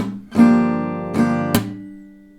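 Acoustic guitar strummed in a pop rhythm pattern, with percussive claps on the strings; bright, close strokes ring out, two strums separated by a short pause, a sharp clap, then a fading chord.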